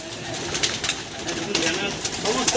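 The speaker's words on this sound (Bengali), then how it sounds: "এই যে চাচার লফট, পায়রাগুলো সব বাইরে আছে।" Pigeons, all male, coo softly and steadily at a loft in the background, with a faint voice and some shuffling noise mixed in.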